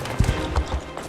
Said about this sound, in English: Wow, look at them gingerbread horses go!